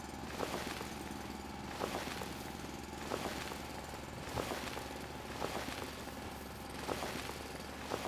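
A mineral deposit being drilled out in the video game Foundry: a faint mechanical drone pulses in regular, repeating thumps about once a second.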